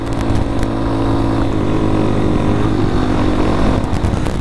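A Honda Grom motorcycle engine pulls uphill in second gear at high RPM, a steady, loud, buzzing drone that holds constant throughout with no pauses.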